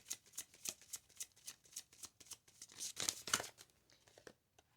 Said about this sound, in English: So let me pull you an advice card for pile number 3.